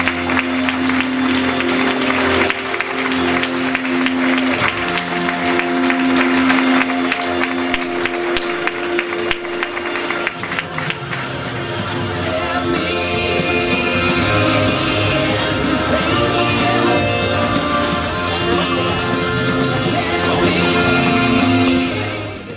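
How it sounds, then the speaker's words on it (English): Audience at an end-of-season awards night applauds and cheers for a winner, a steady loud wash of clapping with crowd noise and music-like tones throughout, continuing unbroken before tapering at the end. "a big round of applause, please, for Thomas Karpov"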